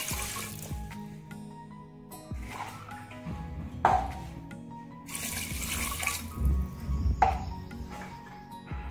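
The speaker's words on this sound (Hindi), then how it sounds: "2 गिलास पानी शामिल करेंगे।" Water from two glasses poured into a clay handi holding meat for aloo gosht, with splashing bursts and a few light clinks against the pot, fairly close and without talk.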